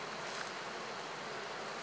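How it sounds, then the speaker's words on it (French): Honeybees buzzing at a hive while colonies are being fed for winter, a dense, steady swarm drone that fills the whole stretch evenly, close and loud, with no talking. "comportement des abeilles, c'est assez doux"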